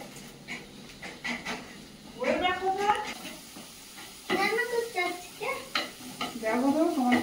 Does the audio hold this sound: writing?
no